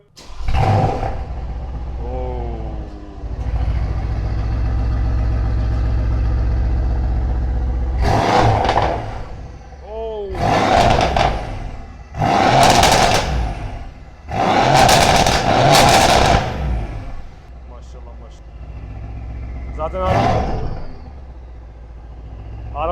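A Mercedes C63s AMG fitted with a catless downpipe, started warm, barks into life and then lets out several loud, separate revving bursts through its exhaust, each rising and dropping back to a rumbling idle close by.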